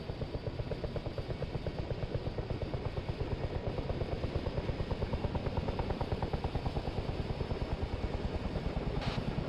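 Helicopter engine spooling up in ARMA 3, a steady loud turbine whine with rapid rotor thumping throughout, building slightly in intensity.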